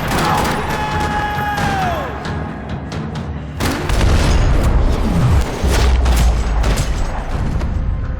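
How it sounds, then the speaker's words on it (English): Gunfire rattles through a parking lot in the video game Max Payne 3, loud bursts of rapid shots and heavy booms crowding together, with a falling tone fading early before the firing swells even louder. "Another parking lot rattling with gunfire."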